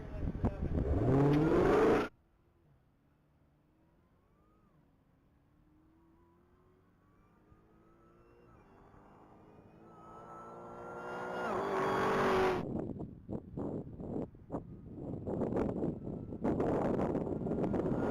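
A 2023 Dodge Hellcat at a top-speed mile event makes a pass down the track, its engine note rising and sweeping through the gears from a distance, followed by loud crowd or wind noise near the microphone.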